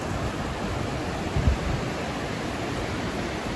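Ocean waves at a beach in winter, a steady broadband wash of surf heard from a distance with wind over the microphone, no voices.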